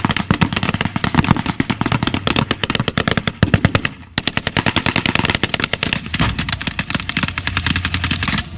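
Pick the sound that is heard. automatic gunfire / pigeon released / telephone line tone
automatic gunfire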